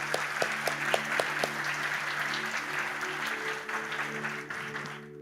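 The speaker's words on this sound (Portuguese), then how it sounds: "Vamos dar uma salva de palmas para Jesus" A church congregation breaks into sustained applause, a dense wash of many hands clapping that holds steady and then fades out, with sharp tonal chimes and a sustained musical chord sounding underneath.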